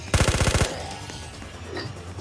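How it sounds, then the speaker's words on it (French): Rapid automatic gunfire from an upgraded icebreaker weapon in a Roblox zombie game, one tight burst of about eight shots lasting half a second, followed by quieter game sounds. "Ça rafale pas mal."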